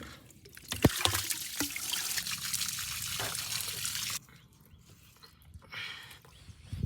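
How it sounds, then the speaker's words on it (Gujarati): Tap water running into a washbasin while someone washes their face: a steady, fairly close rush with splashes that stops abruptly partway, followed by faint trickling and a brief renewed splash. "અહીંયા તો પાણી ખુલ્લું છે યાર"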